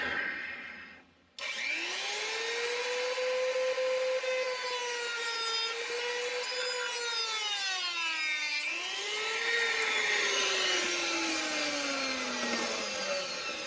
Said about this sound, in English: Let's see how much better I can do this time with the Dremel.